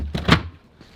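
A magnetized access door on a custom Techo-Bloc and Deckorators propane fire pit shuts with a quick, close dull thud and brief rattle, followed by a faint click.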